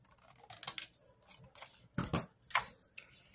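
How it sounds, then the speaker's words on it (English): Scissors cut off part of a junk journal page, giving a string of crisp, close snips in irregular bursts with short pauses between them. "So I'm going to start by cutting this part off."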